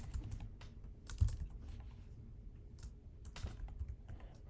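Fingers type quietly on a computer keyboard while entering data into a spreadsheet, producing irregular soft clicking keystrokes at close range in a quiet room.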